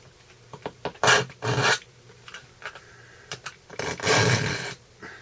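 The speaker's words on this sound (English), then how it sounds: "I like to put the knife in and pull it through" A knife blade is pulled through an AccuSharp handheld sharpener set on a desk, giving close, loud rasping strokes of about half a second each, two of them early and then a longer grinding pull near the end.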